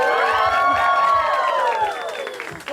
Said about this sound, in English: another resounding cheer